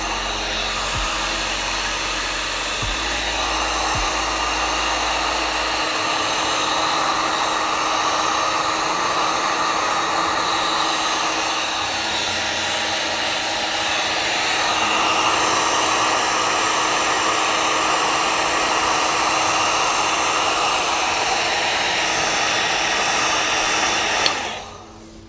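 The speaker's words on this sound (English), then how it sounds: "Grab our heat gun and repeat the same thing we did earlier." A heat gun blows steadily as it shrinks heat shrink tubing over wiring for ambient lighting in a DIY camper build, a continuous loud hiss-roar lasting about 24 seconds before cutting off abruptly.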